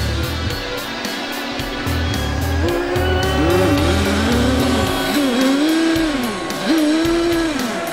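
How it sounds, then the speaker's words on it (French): A radio-controlled endurance racing boat with a small thermal (nitro) engine buzzes at a high pitch during the Trophée de France competition, the whine rising and falling steadily as it runs laps on the water, loud and continuous with no talk. "C'est des petits bateaux qui sont télécommandés, on n'est pas dessus."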